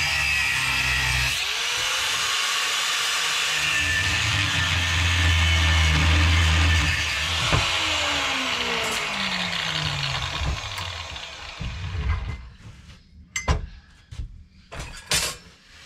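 Power tool cutting through the ends of metal pieces for a Savwinch anchor winch installation, a loud sustained grinding whine for about twelve seconds, then stopping and giving way to scattered clanks and handling knocks.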